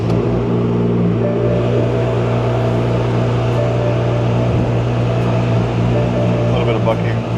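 A BMW engine idles roughly with a heavy, steady low rumble and uneven bucking throughout, loud and close, with no one talking.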